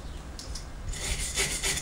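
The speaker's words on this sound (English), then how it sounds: "what I'm going to do is just get a file over them to get it really flat" A hand file rasps over rust spots on a car wheel hub while brake discs are being replaced, giving several close, gritty metal strokes that grow louder partway through.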